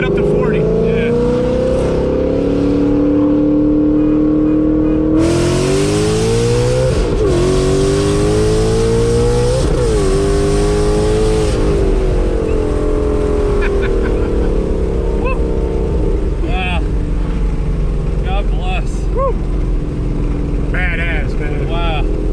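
A Whipple-supercharged S550 Ford Mustang engine revs and climbs under hard acceleration, loud and close, with rising and falling pitch sweeps and brief voices near the end.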